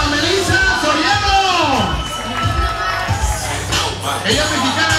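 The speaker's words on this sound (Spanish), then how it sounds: "Un aplauso muy fuerte para Melissa Soriano." A crowd at a bikini contest cheers, whoops and shouts loudly, a dense, continuous roar with some high yells rising above it and a voice over a microphone.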